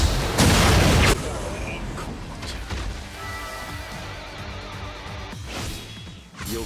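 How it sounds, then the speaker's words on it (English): Soul Bomb special attack animation in the Bleach Brave Souls mobile game: a loud booming blast up front, then a long stretch of crashing, rumbling effects with scattered impacts and a second burst near the end. "I'll go ahead and play a Soul Bomb animation too as well"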